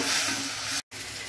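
Sliced onion and tomato sauté together in a hot pan for a black chickpea kulambu, giving a steady close sizzle that cuts out briefly before resuming.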